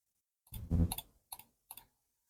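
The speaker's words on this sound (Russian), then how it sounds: "Так, по кликам. Самое тактильное это VXE, дальше идет MCHOS и Razer." Computer mouse buttons clicked one after another while comparing VXE, MCHOS and Razer gaming mice: a quick burst of sharp, close clicks, then two separate single clicks, with nothing else around them.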